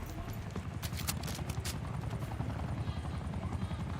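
A helicopter in a Call of Duty match thumps with a steady low rotor beat under game noise and sharp effects, with voices talking over it.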